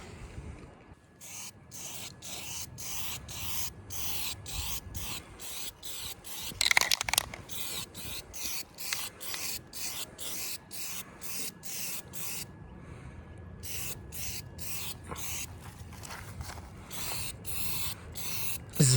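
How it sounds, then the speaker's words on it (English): Primer being rubbed back by hand on the plastic body panel of a SYM VS150 scooter: steady, close, rhythmic scraping strokes in rapid back-and-forth bursts that run throughout, with no talking. "rubbing back the primer"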